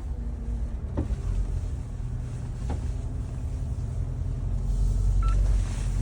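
Electronic parking sensor beeps sound inside a car during an off-road drive on grass at a country fair, a few short tones spaced apart over steady engine rumble and wind noise.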